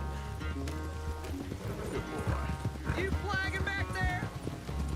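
Hooves clip-clop in a quick galloping rhythm during a horse race in Red Dead Redemption 2, with a horse whinnying partway through and faint voices in the background.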